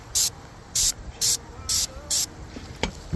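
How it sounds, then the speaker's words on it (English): Short bursts of primer sprayed from a can onto rusty spots of a metal roof: five even hissing blasts in steady rhythm, close and clear, with a couple of faint knocks near the end. "I'm spot priming this roof."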